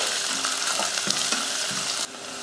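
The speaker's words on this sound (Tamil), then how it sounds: "வெங்காயத்தை நல்லா வதக்கிடுவோம்" Steady crackling sizzle of onion sautéing in hot oil, close up, with a few soft stirring clatters; the sizzle drops slightly near the end.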